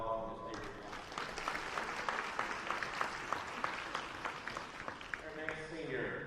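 Gym crowd at a high school volleyball match clapping for a senior, a steady round of applause lasting several seconds between announcer speech at the start and end.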